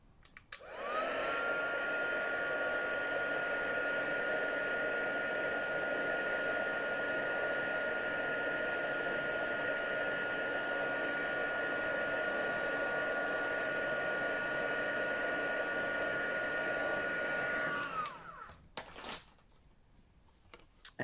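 Heat tool setting embossing powder on a card: a steady loud blowing whir held for about seventeen seconds, then switched off, leaving near silence with a few small handling clicks.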